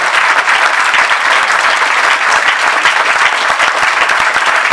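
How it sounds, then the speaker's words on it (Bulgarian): Loud, continuous applause from a packed audience at a short film premiere, many hands clapping quickly and evenly throughout. "Искам също така силни аплодисменти за Елена Рапунчиева, която е наша продуцент."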